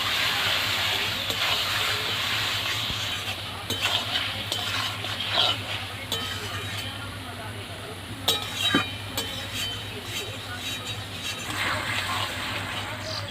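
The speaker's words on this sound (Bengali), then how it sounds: "এবার মাছগুলো মশলার সঙ্গে খুব ভালো করে মিশিয়ে নেব।" Lote fish being stirred into spice paste in a pan without water, a steady background hiss and low hum under scraping, clinking utensil strokes that come in uneven bursts.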